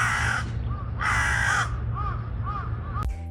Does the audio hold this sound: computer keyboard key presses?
no